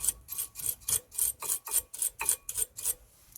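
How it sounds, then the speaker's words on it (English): A wire brush scrubs the brake pad seat on a 2016 Toyota Verso 1.8 VVT-i, making about a dozen quick, rhythmic rasping strokes up close before stopping. "we're just gonna clean the area where the brake pad's gonna sit with wire brush"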